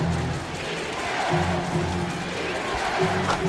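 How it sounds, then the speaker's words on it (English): Basketball arena crowd noise in the video game NBA Live 2006 during a Dallas Mavericks at Portland Trail Blazers game, a steady unhappy murmur of the home crowd filling the background. "This crowd is not happy."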